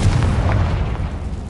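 The Confringo blasting spell explodes in Hogwarts Legacy, a heavy, close booming blast with a deep rumble that fills the moment and slowly fades.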